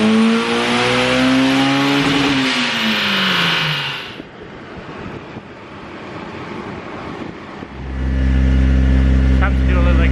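A Honda S2000 with a titanium exhaust revs hard, its engine note sweeping up and down loudly before dropping to a rougher lower rumble, then climbing back to a strong sustained roar.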